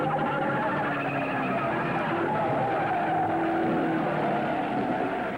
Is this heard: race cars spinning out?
yes